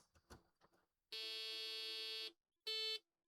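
Two loud electronic beeps from a faulty Brazilian Apple II clone computer, a long sustained tone followed by a short one, sounding after a few brief clicks and knocks.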